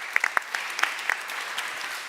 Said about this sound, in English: Can we have a round of applause for Alice, please?